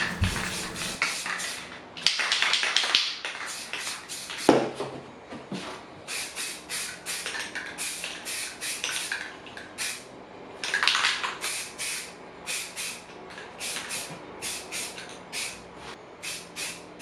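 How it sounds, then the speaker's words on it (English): Spray primer goes onto a coffee table being refinished in repeated short close hissing bursts, some longer passes among quick sputters, with no talking. "Now it's time to spray on my first coat of primer."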